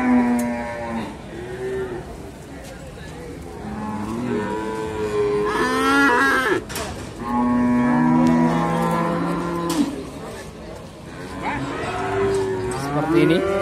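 Simmental cattle at a livestock market give several loud, drawn-out moos, some overlapping, with brief gaps between calls and faint background noise.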